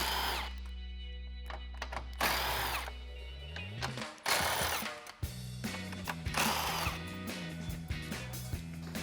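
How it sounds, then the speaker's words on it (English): Impact gun with a deep socket zipping 10mm bolts off the front of a 2014–2015 Silverado 1500 during headlight removal, several short whirring and rattling bursts with pauses and clanks between them, close up and without talk. "I'm switching over to an impact gun and a deep socket"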